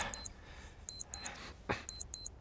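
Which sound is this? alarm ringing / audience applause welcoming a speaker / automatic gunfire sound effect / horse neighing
alarm ringing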